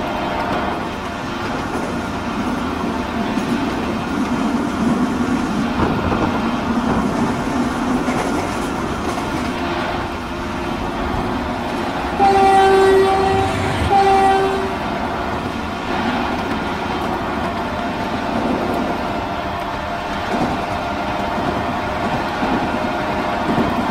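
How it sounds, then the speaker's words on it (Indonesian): A railway relief (first-aid) train rolls along the rails during night shunting, a steady low rumble with wheel clatter throughout and short horn toots partway through, with no talking. "Tuh, kereta penolong first aid"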